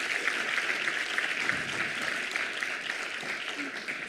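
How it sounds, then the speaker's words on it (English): A conference audience gives sustained applause for the guests, a thick, steady clatter of many hands that holds at an even level, with faint voices mixed in. "A round of applause again for our guests."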